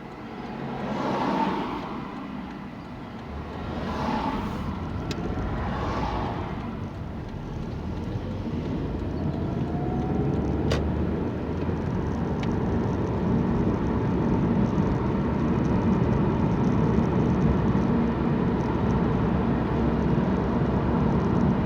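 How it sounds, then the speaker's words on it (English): Steady road traffic passing by outdoors, a continuous broadband rumble and hiss of vehicles that swells slightly over time, with a few brief louder passes near the start and no talking. "there's quite a bit of traffic about."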